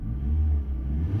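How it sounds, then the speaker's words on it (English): The Mitsubishi-built engine of a 1996 Proton Saga Iswara revs in a short, steady, close rumble with no voices. "Runs spot on, and even has a nice little sound when you rev it"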